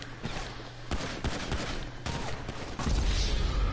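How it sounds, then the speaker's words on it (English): Pistol gunfire in a video game cracks out as a rapid series of sharp shots, close and loud, densest toward the end. "Only pistols, because I don't have any other guns."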